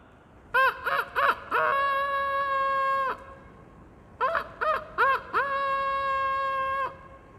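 Children's voices imitate a rooster crowing: two separate calls, each opening with a few short choppy bursts and then stretching into a long held, bright crow, with a brief pause between them.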